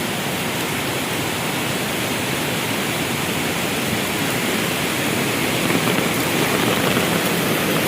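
Strong gushing water pouring from Wawa Dam during a flood, a loud, steady broadband roar that fills the scene without a break and stays constant throughout.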